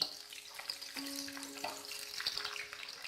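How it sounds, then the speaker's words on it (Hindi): Okra shallow frying in oil in a pan over a medium gas flame, a faint, continuous crackling sizzle with soft stirring touches and a light background hum, quiet and steady with no voices. "गैस का फ्लेम मीडियम करें और भिंडियों को फ्राई करें"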